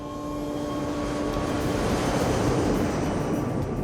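Steady, loud drone of cargo plane engines under power, a broad roar with sustained tonal hums running evenly throughout, no voices over it.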